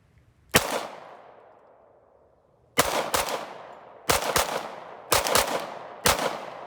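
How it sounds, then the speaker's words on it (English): A Colt 1911 pistol fires five sharp, loud shots outdoors, the first alone and then a spaced series with pauses between, each followed by a short ringing decay; nobody speaks. "So now I'm going to fire off a few shots."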